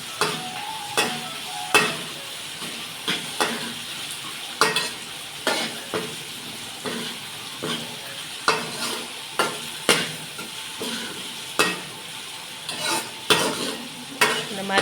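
Tomatoes and onions for tomato sambar are sautéed in a pan, with a spoon scraping and stirring in regular, close strokes over a constant low sizzle, with no talk.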